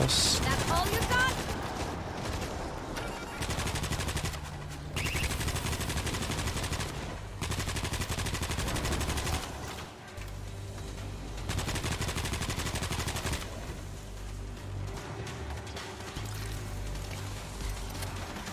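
Automated turrets fire in the World War Z video game: rapid, loud bursts of gunfire that keep rattling for long stretches, with short pauses between volleys.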